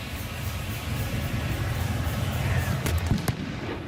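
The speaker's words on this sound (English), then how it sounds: "that cannon shot was exactly when he kicked the ball to Isaiah Bryant at the goal line." A cannon fires at the Army versus Navy college football game, two sharp booming reports cutting through the steady roar of a stadium crowd near the end.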